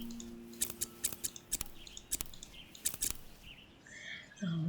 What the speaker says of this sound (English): We've got to go do the garden. Okay. I'm all out of sorts because it's been a while. So let's trim everything back.